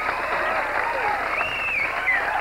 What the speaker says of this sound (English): Give him a big hand, folks.